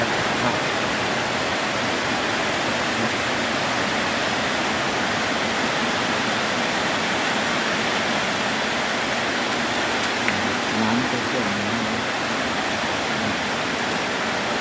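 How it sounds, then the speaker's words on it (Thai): Dense, steady hiss of heavy rain pouring down at a house with flooding, a constant wash of sound filling the whole stretch without pauses. "ท่วมน้ำท่วมวันนี้ฝนตกแรงมากครับ"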